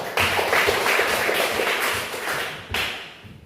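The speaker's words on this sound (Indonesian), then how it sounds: "Ya, berikan aplaus kepada teman kalian." A classroom of students claps for a classmate, a brisk burst of applause that fades, then a second short round of clapping near the end, with no talk over it.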